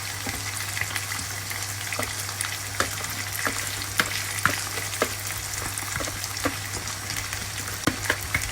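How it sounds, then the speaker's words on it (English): Washed rice being stirred into a pot of bubbling seasoned sauce, a steady close sizzle and bubbling broken by repeated sharp scraping and knocking taps, with no talk. "I will now be adding in our washed rice"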